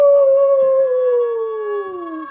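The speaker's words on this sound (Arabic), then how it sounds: "ذئب." A single wolf howl, a long, clear tonal cry that slowly slides downward in pitch, heard alone and fairly close.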